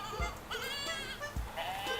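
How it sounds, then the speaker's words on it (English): A screaming goat sound effect plays as a string of loud, strained, human-like bleats, several overlapping cries in quick succession, close and clear. "the screaming goat button"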